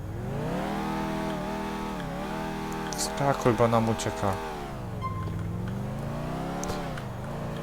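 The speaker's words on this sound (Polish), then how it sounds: "Już będę grzeć silnik." A car engine in Grand Theft Auto IV hums and revs steadily, pitch sliding up and down with a burst of louder clatter midway, while people talk over it.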